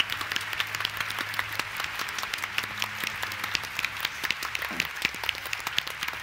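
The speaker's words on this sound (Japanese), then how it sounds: "みんなに大きな拍手を。" Sustained applause and clapping from a large audience at a live fan event in Japan, a steady dense patter of many hands continuing evenly throughout.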